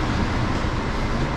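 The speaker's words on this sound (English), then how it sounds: "I'm in JFK, taking the air train, which is suspiciously on some tracks." JFK AirTrain rolls along its tracks with a steady, dense rumble and broadband rail noise heard from inside the car, continuous and without speech.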